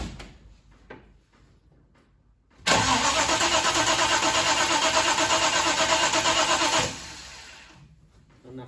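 Holden HJ ute engine with a Holley carburettor starts up and holds a loud, steady idle for about four seconds, then drops away, with quieter mechanical handling noises before and after.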